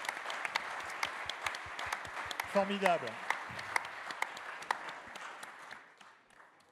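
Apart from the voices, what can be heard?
audience applause for the students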